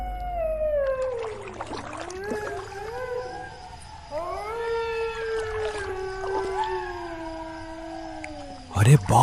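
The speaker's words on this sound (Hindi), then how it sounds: "ये सियार कितनी डरावनी आवाज में चिल्ला रहे हैं" Several jackals howl at night in a dark forest, their long wavering, rising and falling cries overlapping into an eerie chorus that carries on without pause, loud and fairly near.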